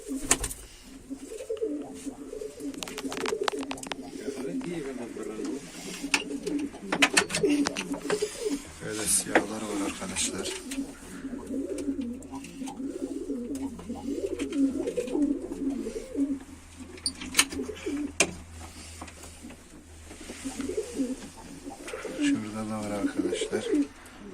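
Several play pigeons in a coop coo continuously in low, throaty warbles close by, with occasional clicks and rustling, and a person talking over the birds.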